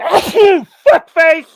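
A loud, close sneeze bursts out, followed by a couple of short vocal sounds, with no other noise around it.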